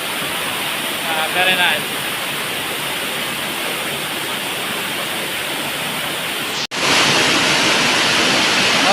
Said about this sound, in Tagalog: And back to the waterfall.